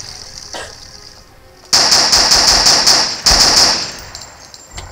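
Rapid automatic gunfire rings out in the video game Dead Lab. Two loud bursts of close, sharp repeated shots follow a quieter ambient lead-in, and no one talks during the firing.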